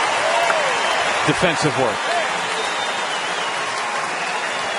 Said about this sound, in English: a nice round of applause for the Wounded Warriors'